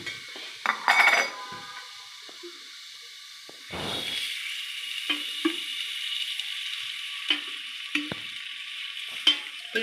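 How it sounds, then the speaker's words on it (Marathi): Garlic and onion fry in hot oil for a fresh pigeon-pea lentil curry, giving a steady sizzle broken by scraping stirs and clinks of a spoon against the pan. "तर आपण दोन्ही करतोय, लसूण पण टाकतोय आणि कांदा पण टाकतोय."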